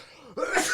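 A single sharp sneeze bursts out after a brief quiet gap, close and fairly loud, with a short breathy lead-in before it.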